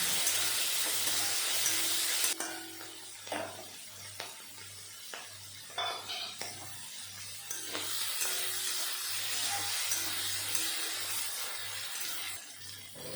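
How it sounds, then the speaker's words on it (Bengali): Turmeric- and salt-coated shrimp fry in hot oil seasoned with radhuni and black cumin, giving a steady broad sizzle with intermittent stirring clatters and a low steady hum underneath. "চিংড়ি মাছে হলুদ আর নুন মেখে রেখেছিলাম, দিয়ে দিলাম। একটু সময় ভেজে নেব।"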